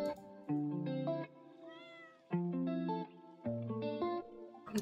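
Game cat meowing in modded Minecraft, several drawn-out, electronically tinged meows with distorted, chorus-like harmonics in three main bursts, faint and with no talk over them.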